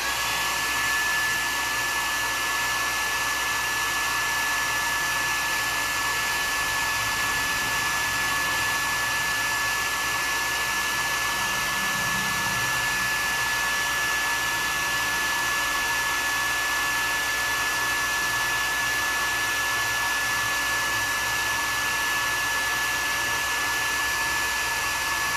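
A hair dryer blowing on hair runs as a steady, loud, unbroken whoosh and motor whine for the whole stretch, alone with no talking.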